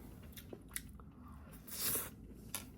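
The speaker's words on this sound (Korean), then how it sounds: "너무 배고파가지고 조금 먹어보려고요" Soft chewing and biting of a snack by one person eating alone indoors, close and quiet, with a few crisp bites and a louder crunch near the middle over low room noise.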